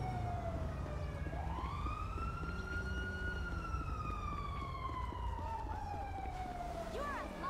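A police siren wails in a police video game, its pitch sweeping slowly up and down over a dense background rumble, fairly prominent in the mix.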